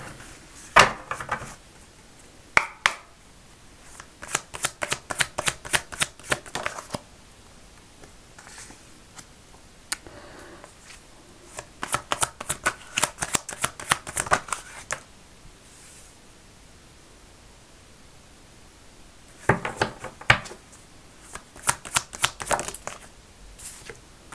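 Tarot cards being shuffled in several bursts of rapid papery riffling and flicking, separated by quiet pauses, close and fairly soft with no talking.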